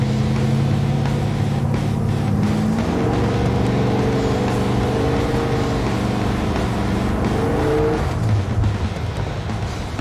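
A 1957 Chevy cruiser with a 700R4 transmission rumbles along at cruising speed, its steady, loud engine drone shifting pitch smoothly as the throttle eases off, with no voices.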